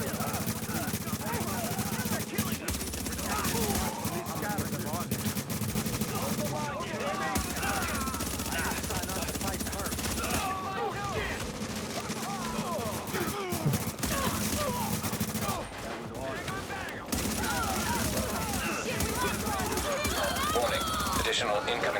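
Gunfire from a video game firefight rattles almost continuously over a dense mix of game sounds, with brief drops in level, while a voice talks intermittently.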